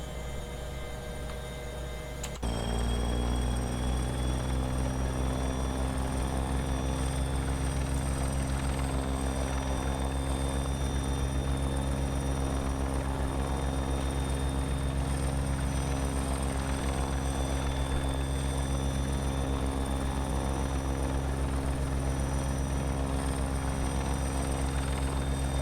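A Bell 412 helicopter in the X-Plane 11 flight simulator, a loud, steady, droning rotor and turbine hum that abruptly steps up in intensity early on and then holds constant, with no speech.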